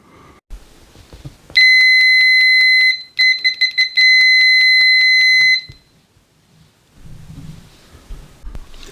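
An Etekcity MSR-A1000 budget multimeter sounds its continuity beeper at maximum volume: two loud, sustained, piercing electronic tones separated by a brief break, with quiet handling noises before and after.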